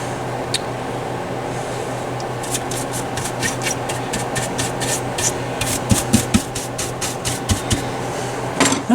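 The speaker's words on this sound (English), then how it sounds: "Now let's see if we can clean up some of this gunk." Gunk is scrubbed off a Pioneer PL-41 turntable part with a close, rhythmic rubbing and scraping that grows busier toward the end, over a low steady background hum.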